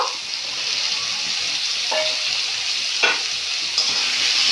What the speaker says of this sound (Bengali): আলুটাও বেশ ভালো করে ভেজে দেবো